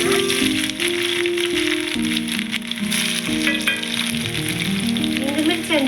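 Coarsely crushed onions and garlic fry in hot oil for gongura chicken, a loud continuous close sizzle with crackles and spatters, while faint tonal music-like sounds run beneath it.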